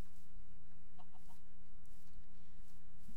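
Chicken clucking in the Minecraft video game: a few short, quick clucks over a steady low hum, fairly faint, with no talking.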